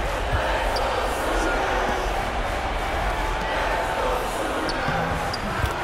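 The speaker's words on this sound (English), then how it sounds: "Crowd getting a little hype." Crowd noise from an NBA 2K17 basketball video game, a steady roar of arena cheering with basketball bounces and squeaks running underneath throughout, fairly loud and continuous.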